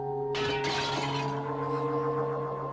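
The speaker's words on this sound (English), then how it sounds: "Lamp, I order you to shatter." A lamp shattering as a TV sound effect: a sudden burst of breaking glass in two quick crashes, then tinkling debris that fades over a couple of seconds over a steady electronic hum.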